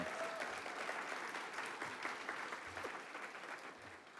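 Steady, dense applause from an audience at a college awards ceremony honoring a staff member retiring after more than 33 years, sustained and fairly even throughout with no voices over it.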